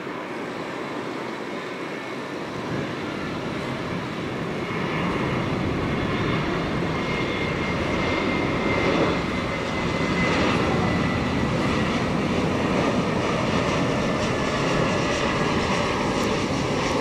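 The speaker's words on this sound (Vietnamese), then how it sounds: "bây giờ chiếc máy bay hạ cánh xuống đường băng 25 phải" A Boeing 747-400F Cathay Pacific cargo plane landing on runway 25R at Tan Son Nhat, a steady loud broadband engine roar that swells slightly and holds throughout.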